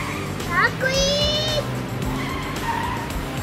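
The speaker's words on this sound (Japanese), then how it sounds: "キーを回してエンジンスタート コースをマックイーントミカが走り出す" A Tomica McQueen toy race car on a track starts and runs with whirring engine and squealing tire effects, loud and close, while a voice talks over the playful motor sounds.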